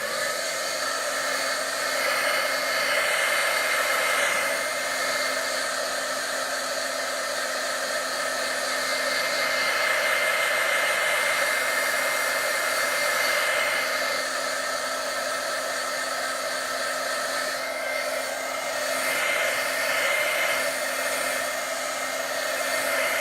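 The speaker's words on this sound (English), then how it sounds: "now I'm going to dry this with a heat gun" A heat gun blows in a continuous steady whoosh with a faint hum, drying chalk paste on a white pitcher, loud and close and unbroken for the whole stretch.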